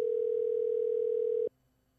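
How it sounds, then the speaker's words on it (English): A steady telephone tone on a call, one continuous electronic hum held for about a second and a half, then abruptly cutting off into near silence. "Now it's ringing."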